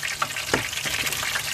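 Crab dipped in crispy batter fries in hot oil on a fishing boat at sea, giving a soft, steady sizzle with a few brief bubbling pops, fairly quiet and without voices.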